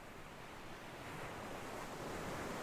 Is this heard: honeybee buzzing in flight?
no